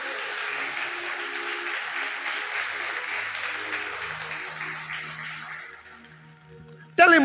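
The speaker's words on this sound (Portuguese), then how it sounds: "Quem crê, aplaude Ele bem forte nessa noite." A church congregation claps in sustained, dense applause that fades out after several seconds, followed by a sudden sharp sound at the very end.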